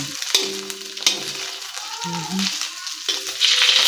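Fat browning and frying in a pan for pinakbet, a loud close sizzle with a few clicks from stirring, while brief tonal sounds come and go over it.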